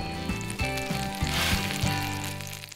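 An egg sizzles steadily as it fries in a pan, left to set before stirring, with a continuous crackle and a few soft clinks of a utensil against the pan.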